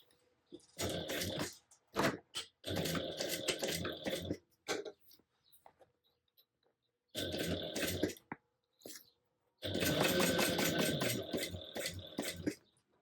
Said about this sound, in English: And then the instructions say you'll baste your binding down at 1/4 inch seam allowance. So let's do that